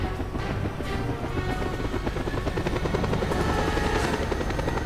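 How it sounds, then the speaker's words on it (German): Helicopter in the video game Just Cause 2 lifting off, a steady, loud rotor and engine drone that fills the whole stretch with a continuous buzzing thrum and no pauses. "ich bin in den Heli"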